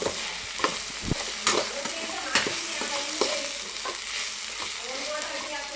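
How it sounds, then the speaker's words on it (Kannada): Eggplant coated in ground masala fries in hot oil in a pan, a continuous close sizzle broken by repeated scraping and clacking of a spoon stirring the pieces, with no voices. "ಫುಲ್ಲು ಕಂಪ್ಲೀಟಾಗಿ ಬೇಯೋ ತನಕನೂ ಕೈ ಆಡಿಸ್ತಾನೆ ಇರಬೇಕು ಅದರಲ್ಲಿ ಆಯಿಲಲ್ಲೇ ಕಂಪ್ಲೀಟಾಗಿ ಫ್ರೈ ಆಗಬೇಕು"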